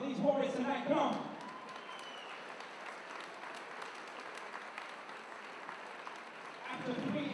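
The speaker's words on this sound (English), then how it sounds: "huge round of applause for these warriors tonight" Applause from a crowd for boxers after a fight, steady and fairly faint through most of the stretch, with a voice talking at the start and end.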